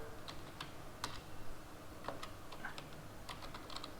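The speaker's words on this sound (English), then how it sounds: "Next, press enter key." Soft, steady clatter of keys typed on a computer keyboard, with scattered sharper key hits standing out above a hiss of room noise.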